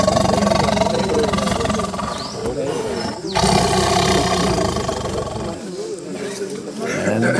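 A caged tiger growls low and rumbling while resting, in a continuous rolling snarl that fades briefly and resumes, with someone talking over it.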